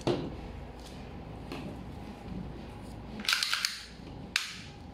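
An Umarex Glock 17 Gen 5 gas airsoft pistol fires a few sharp, snappy shots spaced apart, the last ones louder and crisp against a quiet room.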